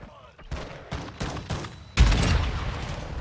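Launcher fire in a first-person shooter video game: a run of sharp, booming blasts about every half second, then a larger, louder explosion that rumbles on. A voice may be faintly under the action.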